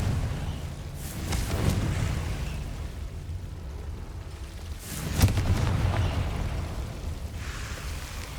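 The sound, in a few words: Confringo fire spell explosion, from video game Hogwarts Legacy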